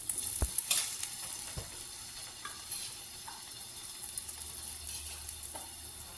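Brinjal pieces frying in a pan, a quiet continuous sizzle with occasional low thumps and light scraping as the pieces are moved, no talking.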